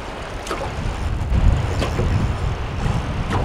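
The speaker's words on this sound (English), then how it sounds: "Got some really big waves coming." Big waves slap against a fishing boat on a northern Wisconsin lake in spring, with steady rushing water and wind noise and several louder splashing hits.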